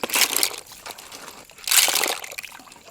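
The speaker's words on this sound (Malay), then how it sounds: "Bilas ni banyak kali juga macam kerang. Buat macam ni dalam 2 ke 3 kali untuk betul-betul lala ni bersih daripada lumpur." Lala clams are rinsed in water to wash off mud. Close splashing and sloshing comes in two loud bursts, with softer trickling and dribbling between them and no speech.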